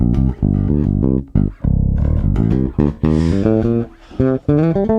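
An electric jazz bass on its single-coil bridge pickup plays a loud, close riff with a thin, bright, nasal tone, quick plucked notes separated by brief gaps.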